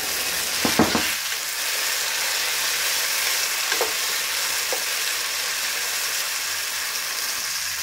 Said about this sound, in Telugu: ఉల్లిపాయ ముక్కల్ని కొంచెం దూరగా వేయించాలి